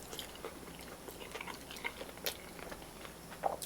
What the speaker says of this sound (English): Chicken has good crunch on it.